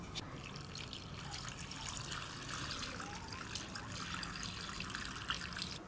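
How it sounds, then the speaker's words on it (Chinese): Cooled boiled water trickles and pours into a pickling jar of radish and Chinese artichoke, a steady close splashing stream lasting several seconds. "再倒点凉凉的凉开水。"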